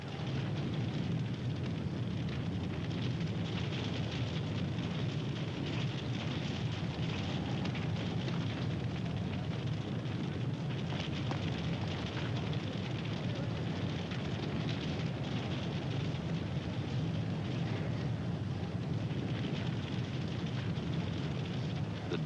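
A reproduced nightclub fire blazes out of control, a loud, dense, continuous roar with crackling texture running unbroken throughout, no voices present.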